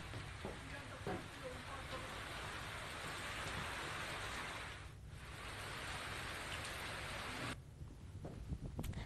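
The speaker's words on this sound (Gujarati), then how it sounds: "સુઈગામ પંથકમાં ધોધમાર વરસાદ શરૂ થયો" A dense, continuous roar of heavy rain pouring down in Suigam, Banaskantha, Gujarat, steady throughout with a brief dip partway, a few faint knocks near the end.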